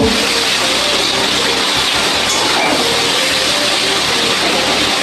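Cumin, dried red chilli, onion and green chilli fry in oil in a pan, giving a loud, continuous, close sizzle that holds steady throughout with no talking.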